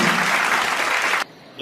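Loud, dense applause from a crowd at a community mass wedding ceremony held in a garden hall, sustained steadily for over a second before it cuts off abruptly into near silence.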